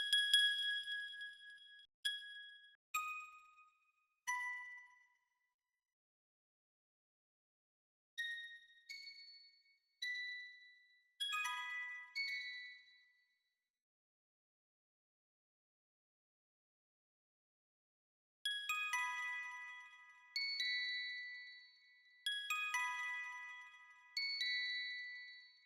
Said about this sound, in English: Then some simple bells.